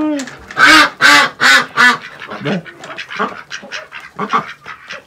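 Mallards and muscovy ducks in a winter farm shed give four loud, close, evenly spaced quacks, followed by softer rapid quacking and chatter, with a brief spoken word between the calls.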